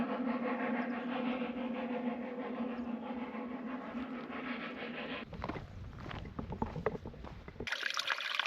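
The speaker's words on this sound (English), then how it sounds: "This is the steam train, And not the diesel. There he goes." A steam train passes nearby in Wales with a steady, heavy rumble and low chugging drone, then gives way to rustling outdoor noise and a brief hiss at the end.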